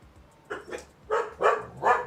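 Dogs bark in a few short bursts at close range, a pair of quick yaps followed by three louder, fuller barks spaced about half a second apart over a quiet background.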